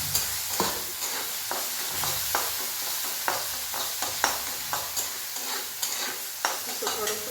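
Ground coconut, coriander and salt masala sizzles and fries in a pan for soybean bhaji, with steady crackling and repeated scraping strokes of a spoon stirring it at a regular pace, close and fairly loud without talk.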